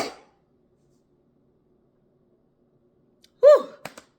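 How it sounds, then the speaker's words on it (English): A single sharp, fairly loud sneeze bursts out after a long near-silent stretch, followed by a couple of brief clicks. "I feel a sneeze coming on."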